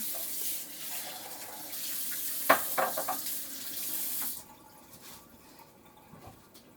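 A pot is rinsed under a running kitchen tap, with a steady rush of water and a few clanks against the metal, then the flow cuts off and quieter handling follows.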